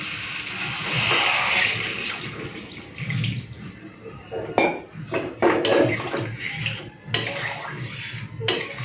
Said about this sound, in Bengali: ডিম আলুটাকে ভালো মতো কষে নিয়েছি এরপরে জল দিয়ে দেবো